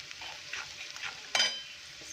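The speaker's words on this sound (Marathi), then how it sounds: "थोडीशी हळद अर्धा चमच हळद मिक्स करून घेऊया" Fried green chillies stirred with salt and turmeric in a pan for a spicy yogurt chilli chutney, a continuous close sizzle with scraping spatula strokes and one sharp clatter partway through.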